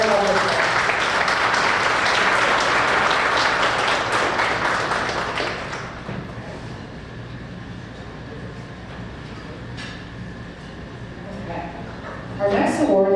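Guests at an awards luncheon give a round of applause, a loud, dense burst of clapping that fades after about six seconds into quieter room tone with faint voices and stray sounds.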